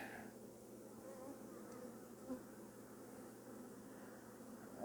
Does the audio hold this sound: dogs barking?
no